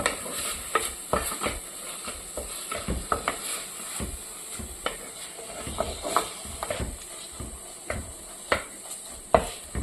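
Tomatoes sautéed with ginger and garlic for a prawn curry are stirred in a pan, giving irregular scraping taps of the spoon over a soft continuous sizzle, with no voices.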